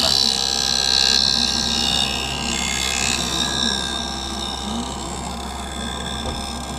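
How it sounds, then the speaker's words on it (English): Lens edger grinding a knife-edge bevel onto an eyeglass lens for a Ray-Ban Wayfarer frame, a continuous raspy whirring grind that is loudest early and eases slightly, steady throughout with no talking. "Now it's getting the knife edge bevel being placed onto the edge of the lens."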